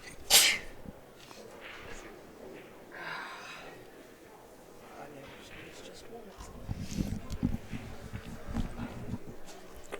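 A sharp, loud sneeze bursts out at the very start during a one-pocket pool match, followed by quieter background noise and some talking later on.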